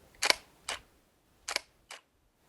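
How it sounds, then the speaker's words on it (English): Nikon D500 camera shutter fired in quiet mode: two separate paired clicks, each a soft mirror snap followed by a delayed return, close and crisp against a silent room. "Now I'm going to give you the silent shutter."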